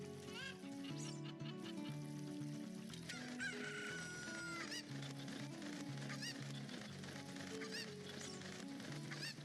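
Chickens cluck and crow in Legend of Zelda: Ocarina of Time, repeated bird calls over a steady bed of game music, fairly faint overall with no clear talk.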